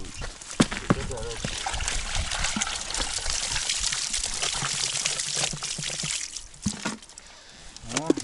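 Water draining and pouring off on an ice fishing base, a continuous splashing trickle with some louder gurgles and knocks, while someone talks over it.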